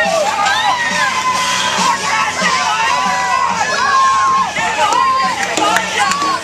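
A race crowd in Charlotte, Michigan cheers, whoops and shouts continuously and loudly, with children's high yells standing out over a dense wall of voices.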